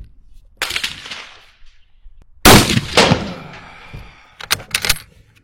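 Gunshots from a Type 99 sniper rifle fired at a range: two sharp, loud blasts with echoing tails, followed by quick metallic clicks of the bolt being worked.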